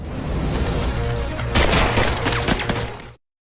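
Bursts of gunfire in a shootout, a dense volley of sharp cracks and booms that peaks midway and then breaks off abruptly.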